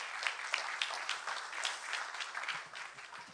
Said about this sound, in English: Once again, please give them a big round of applause.